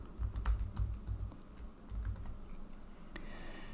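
Keys on a computer keyboard are tapped in quick, irregular clicks, fairly quiet and close, with short pauses between bursts and no talking.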